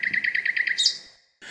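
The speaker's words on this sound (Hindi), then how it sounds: "तब उन्हें पता चला कि पक्षियों का कलरव दरअसल मोबाइल की अलार्म ट्यून है" A mobile phone alarm tone of chirping birds sounds close and clear: about eight rapid, evenly spaced chirps, then a brighter trailing trill, a short pause, and the tone starting again.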